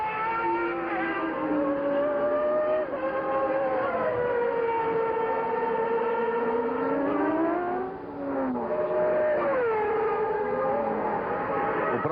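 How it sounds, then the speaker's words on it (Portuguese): Formula 1 cars at the 1990 Brazilian Grand Prix howl past one after another, their high-pitched engines rising and falling in pitch as each car sweeps by, loud and continuous with a brief dip between cars. "Já passou, quem passa agora é Berger."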